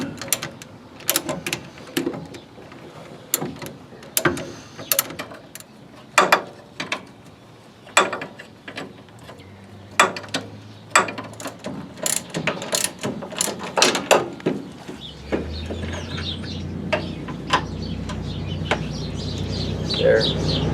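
Brake drum being worked off the front of a 1967 car during a disc brake conversion: repeated sharp metallic clanks and ratcheting knocks, close and irregular, with scraping and rattling building toward the end.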